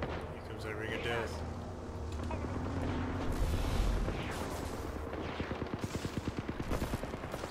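Gunfire in the video game Apex Legends, with heavy booming shots and then a fast, steady rhythm of automatic fire rattling along, moderately loud amid dense game noise and a speaking voice.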